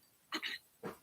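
A dog gives two short, close barks about half a second apart, with quiet between them.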